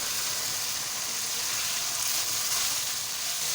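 Cubed tomatoes sizzle in hot masala in a karahi for a liver fry, giving a steady, dense hiss of frying throughout. The sizzle is moderately close, with no talk over it.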